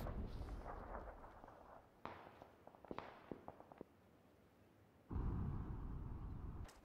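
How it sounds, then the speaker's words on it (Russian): Cars blow up in a multiplayer video game, heard as a series of sharp blasts and crackling bursts, then a heavy rumbling explosion near the end, at moderate loudness with no talking. "Взрываются кругом машины"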